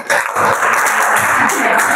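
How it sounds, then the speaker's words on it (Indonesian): Students in a seventh-grade science class applaud for about two seconds, a dense steady wash of clapping with some voices mixed in. "Berikan tepuk tangan buat kalian semua."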